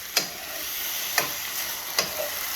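Quail stir-fried in a pan over high heat: steady faint sizzle with three sharp spatula scrapes or clacks about a second apart.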